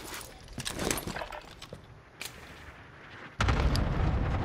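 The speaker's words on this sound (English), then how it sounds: "I'm getting sniped from somewhere" Sniper shots ring out in a video game, several sharp cracks and booms scattered through the scene, ending in a heavier sustained blast, with no talk over them.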